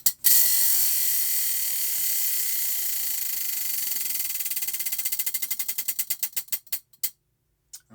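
A prize wheel spun to choose crochet stitches clicks rapidly against its pointer, the ticks slowing and spreading out as it coasts to a stop, loud and close with no talk.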